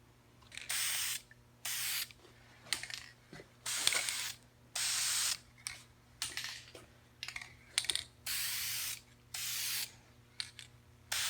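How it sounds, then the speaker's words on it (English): Aerosol tint spray can misting a car's corner lights in a series of short, even bursts with brief pauses between, close and fairly loud, no talking. "now that we've been aggressive with the can, we're going to lightly coat these"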